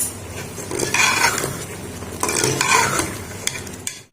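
Whole spices and black pepper sizzle and fry in a pan while a utensil stirs and scrapes against the metal, producing loud, dense crackling with bursts of clinking over four seconds.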